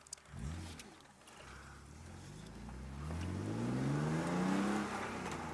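A car fitted with a newly installed chassis-mounted shifter, its brakes worn out, revs hard on a test drive; the engine note climbs steadily through rising revs, growing louder and closer toward the end.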